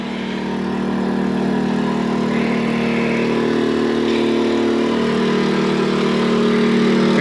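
A portable generator beside a travel trailer drones close by, holding an even mechanical hum for the whole stretch without letting up.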